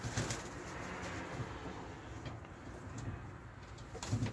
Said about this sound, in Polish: zobaczcie, jak walczą.